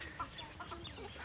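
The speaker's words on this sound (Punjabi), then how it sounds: "ਦੇਖ ਭਾਈ ਕੁੱਕੜ ਸਾਰੇ ਇੱਧਰ ਇਕੱਠੇ ਹੋ ਗਏ ਨੇ।" Chickens and roosters gathered together at a village coop, clucking in short, scattered calls at moderate distance over a faint outdoor background.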